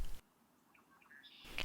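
A red-winged blackbird calls at a spring creek preserve, giving a short burst of bright, buzzy notes near the end after a faint, quiet stretch, with a brief rustle at the start.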